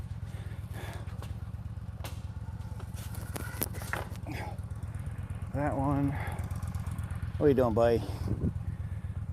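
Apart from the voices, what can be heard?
motorcycle engine running in the background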